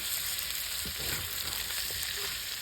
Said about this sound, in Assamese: ধুনীয়াকৈ বিলাহী দিলে ভাজিম।